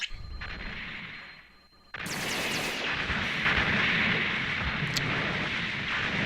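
A weapon fires in the video game Mobile Suit Gundam Online. After a quieter opening, it bursts into a loud, sustained barrage of heavy booms and rumbling that holds to the end.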